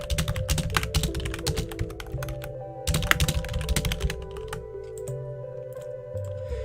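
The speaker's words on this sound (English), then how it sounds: "I'm just typing this real quick." Fast, close keystrokes rattle on a computer keyboard in rapid bursts that thin out into a few scattered taps toward the end, with no voice present.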